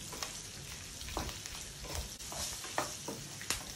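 Cashew nuts frying with turmeric in a pan, a close, steady sizzle broken by stirring scrapes and clicks at irregular intervals.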